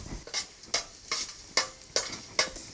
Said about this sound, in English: So we keep stirring it to make it a little bit brown.